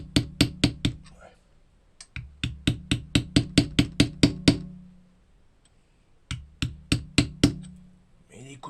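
Sharp metallic hammer blows while dismantling a J5 C25 gearbox for rebuild, struck in rapid runs of about five, then nine, then a few more, with brief pauses between bursts, close and loud.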